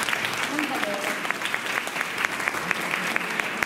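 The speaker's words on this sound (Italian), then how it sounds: "Un applauso grande a loro." An audience at a Christmas mini festival applauds children, with steady, moderately loud clapping filling the space and scattered sharper claps, while a voice speaks over it.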